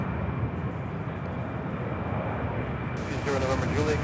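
A Piedmont airliner takes off from Charlotte Douglas International Airport, a steady distant jet roar and rumble that swells slightly near the end.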